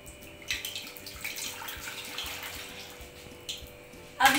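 Fried dahi vada dumplings slip into a bowl of water with soft sloshing and light splashes, then a sharper splash at the end, all fairly close and without talk over it.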